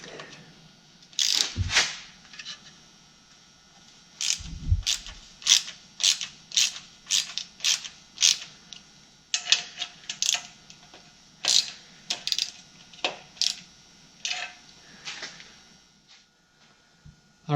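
A ratchet wrench clicks in repeated short bursts while tightening intake manifold bolts on a VW 1500cc air-cooled engine, crisp close ratcheting strokes in a steady rhythm with brief pauses, no talking.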